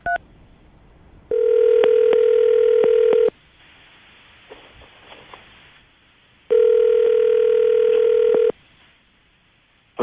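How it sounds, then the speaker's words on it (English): A telephone plays a steady dial tone in two long bursts, each about two seconds, with a quiet gap between them while keypad numbers are entered; loud, clear and close, with no voices. "I'm going to dial the phone number right now"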